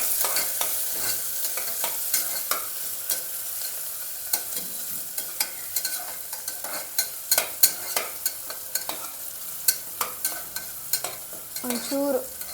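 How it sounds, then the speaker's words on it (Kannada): Onions, chillies and spices frying in a pan for palau, with a continuous sizzle and repeated sharp scraping strokes of a spoon stirring throughout, close and fairly loud. "ಒಂಚೂರು ಕಲರ್ ಚೇಂಜ್ ಆಗೋವರೆಗೂ ಚೂರು ಫ್ರೈ ಮಾಡ್ಕೊಳ್ರಿ."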